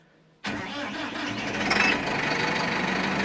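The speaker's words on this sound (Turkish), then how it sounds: "Traktörümüz çalıştı. Uyarı verdi soğuk olduğu için." After a moment of quiet, a Massey Ferguson 5S tractor engine starts with a sudden, loud catch and then settles into a steady, close rumbling idle that continues to the end.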